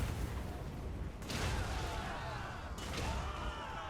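Cannons firing in a Total War: Warhammer 2 battle, two sharp booming blasts about a second and a half apart, each trailing into crackling rumble over a constant battlefield din, moderately distant.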